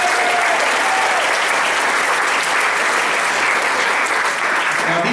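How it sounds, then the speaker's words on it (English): Steady, full audience applause at a holiday skit event in Allegan, continuous clapping from a sizable crowd throughout, fairly loud and close, with no talk over it. "Give the citizens of Allegan a round of applause."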